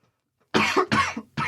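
A person coughs three times in quick succession, close and fairly loud, each cough a short harsh burst with slight throat rasp.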